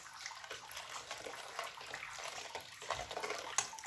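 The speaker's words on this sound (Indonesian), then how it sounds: "Dan kita tambahkan dengan air." Water pours into a chocolate pudding mixture in a steady, splashy trickle that swells and sloshes toward the end, close and fairly quiet, with no talking.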